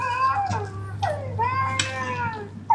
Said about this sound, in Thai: มีเด็กร้องด้วย